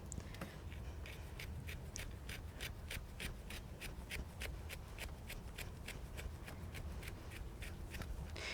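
A blade scrapes moosehide clean in Athabascan Ahtna-style tanning, producing a regular run of short, crisp rasping strokes at a steady up-and-down rhythm, close and unvoiced.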